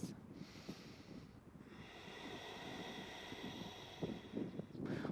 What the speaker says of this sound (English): Deep exhales.